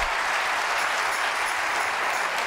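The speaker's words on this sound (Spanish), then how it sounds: "denle un fuerte aplauso al Señor" A church congregation applauds loudly during a Spanish-language evangelical service, a dense, continuous wash of clapping that stays level and close throughout with no speech over it.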